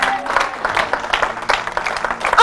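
A church congregation applauds in praise of the Lord, a close, uneven burst of many hands clapping with loose rhythmic pulses, with faint voices mixed in.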